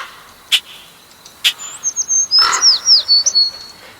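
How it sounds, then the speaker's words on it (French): Birdsong sound effect: a couple of sharp isolated chirps followed by a quick run of bright, twittering whistles, clear and close against a quiet background. "peuplé le ciel de toutes les espèces d'oiseaux"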